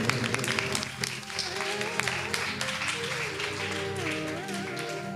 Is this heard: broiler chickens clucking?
no